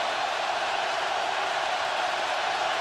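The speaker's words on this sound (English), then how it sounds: "listen to that crowd" A college football stadium crowd at a Texas A&M versus South Carolina game roars as a steady, dense wall of noise that stays loud and unbroken for the whole stretch.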